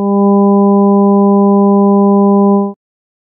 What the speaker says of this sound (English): the tones of the harmonic series produce a major chord